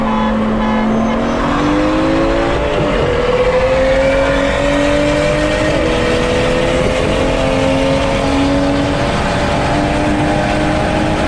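A tuned BMW F30 335i race car roars through a long, loud engine pull, the pitch climbing steadily with a shift or two as it accelerates, close and continuous with no voices.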